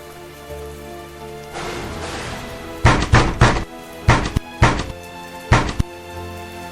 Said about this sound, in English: listening to the storm batter the castle walls